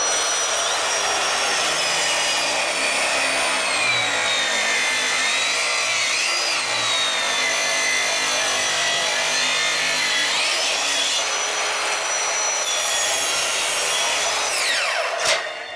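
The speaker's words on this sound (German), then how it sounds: "Jetzt bin ich zum ersten Mal in der Lage, mit so einem fein verzahnten Sägeblatt auch mal einen Längsschnitt zu machen" A power saw with a fine-toothed Kaindl multipurpose blade rips lengthwise through wood with a continuous high-pitched whine, close and loud, its pitch shifting slightly as the cut progresses.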